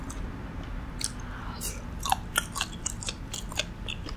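Close, moist chewing of sausage at an outdoor pork-and-fried-food feast, with soft crunchy bites in an irregular rhythm over a low outdoor background hum.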